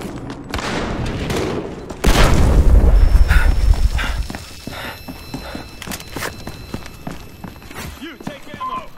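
An incendiary grenade is thrown in a shooter video game and bursts into a loud, dense crackling roar about two seconds in, dying down after a couple of seconds, with shuffling footsteps and distant gunfire around it.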